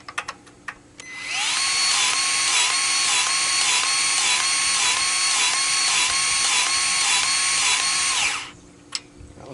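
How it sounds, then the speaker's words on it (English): A Milwaukee M12 cordless grease gun pumps grease into a Kubota B2650 tractor. Its motor whirs loudly and steadily for about seven seconds with a pulsing mechanical tone, then stops, followed by a couple of small clicks. "You can see it's starting to pump the clean grease out through."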